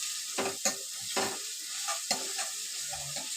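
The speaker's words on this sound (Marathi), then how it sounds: "भाजायला द्यायचं जे भाजेपर्यंत आपण हे चमच्याने हे करून घ्यायचं" Onion with crushed ginger and garlic frying in a pan, a spoon scraping and stirring in quick repeated strokes over a continuous close sizzle.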